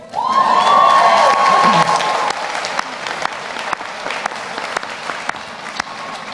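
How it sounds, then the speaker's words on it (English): A graduate commencement crowd at Longwood University bursts into loud applause and cheering, the clapping and shouts peaking at first, then settling into steady, somewhat quieter sustained applause. "You can cheer now."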